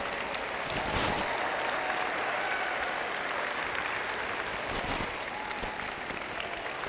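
An audience at a school district's opening day ceremony applauding elementary teachers, a sustained, even wash of clapping from a large crowd filling the room, with no talking.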